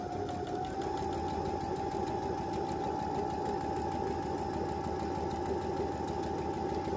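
Steady, even whirring hum of a sewing machine motor stitching over an earlier seam on a fabric face mask with an inner pocket, close and unbroken throughout.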